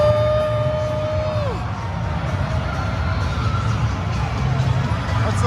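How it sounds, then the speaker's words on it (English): Full crowd filling an ice rink, a steady dense murmur of many voices and distant shouts echoing through the arena, continuous and moderately loud with a fading tone early on. "That's the full crowd."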